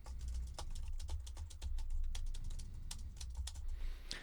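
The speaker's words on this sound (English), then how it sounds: "Here's a Mac keyboard." Rapid typing on a Mac keyboard, crisp close key taps in an irregular stream with brief pauses, no voices.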